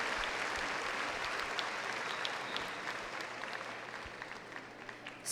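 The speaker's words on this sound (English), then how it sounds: "Let's give them a round of applause for their invaluable advice, direction, and unfailing generosity." Steady applause from a large graduation audience at John B. Alexander High School's 2019 ceremony, fairly faint and distant, fading slightly toward the end with no speech over it.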